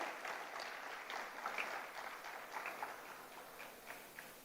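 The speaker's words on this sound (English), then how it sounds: "So a big round of applause for Professor A.C. Hegde and his team." At a university orientation programme for new undergraduates, an audience applauds a dean and his team. Distant, reverberant clapping runs steadily throughout at a fairly low level.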